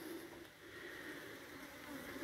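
Honey bees buzz around an open hive in rainy weather, a steady, fairly faint insect drone that holds continuously through the whole stretch with no voices.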